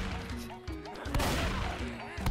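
Gunfire in Left 4 Dead 2 during a one-on-one match, with several sharp impacts and crashes, while excited voices shout over the game noise.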